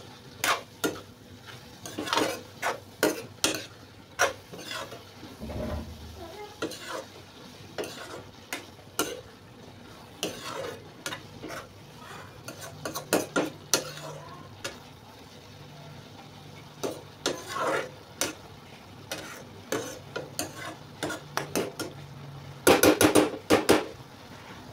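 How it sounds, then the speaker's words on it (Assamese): Vegetable bhaji in a pan is stirred with a utensil that scrapes and clacks against the pan in irregular bursts over a low sizzle, with a louder rattle near the end. "ভাজিটো মই এতিয়া লৰাই দিওঁ।"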